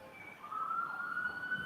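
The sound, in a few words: police sirens in trial video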